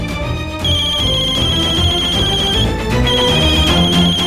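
A phone ringtone plays loudly and continuously, a bright repeating electronic melody with no voices.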